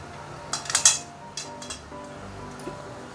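A metal lid is set onto a steamer pot holding fish over boiling water, giving a few close clinks and clatters of metal on metal, followed by quieter cookware noise.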